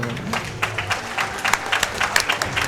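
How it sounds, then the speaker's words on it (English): A game commentator at a speedrunning marathon event claps his hands, a scattered burst of close, sharp claps with uneven rhythm over quiet room noise. "I just clapped for myself"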